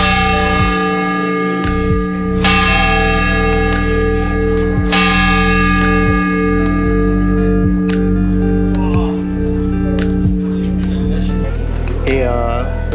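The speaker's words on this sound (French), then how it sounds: "tu vois les cloches qui sont juste au-dessus de ta tête" Church bells hang directly overhead in an Andalusian belfry, struck loudly and close with rhythmic clangs and long ringing tones that layer and sustain, with voices talking underneath.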